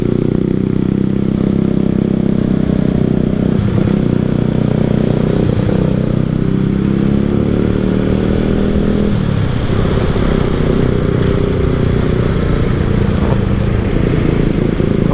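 A motorcycle engine drones steadily and loudly throughout, with rattling and clattering bumps as it rides over a flood-damaged road.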